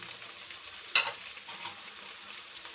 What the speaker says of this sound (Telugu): కొంచెం దోరగా ఈ ఎర్రగడ్డలు దోరగా ఫ్రై అయిన తర్వాత తరిగి పెట్టుకున్న క్యారెట్, అలాగే బఠానీ గింజలు